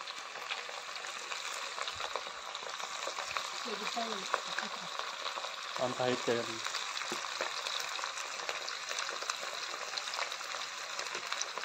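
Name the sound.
chicken pieces frying in a large pan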